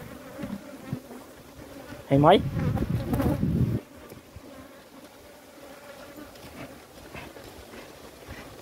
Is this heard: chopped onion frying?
no